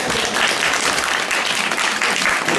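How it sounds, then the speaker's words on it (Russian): Audience applause at a meeting with a writer held in a church, a full, steady round of clapping from many people lasting a few seconds with slight swells. "Аплодисменты."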